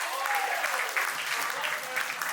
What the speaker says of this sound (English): Give yourselves a round of applause to start with.